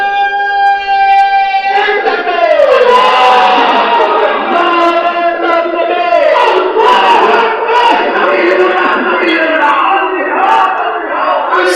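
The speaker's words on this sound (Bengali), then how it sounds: "বিশ্বের মুসলিম এক হও এক হও বলে তারা স্লোগান দিচ্ছে" Dense protest crowd in Khulna rallying for Palestine, many voices chanting slogans in unison, loud and continuous with rising shouts throughout.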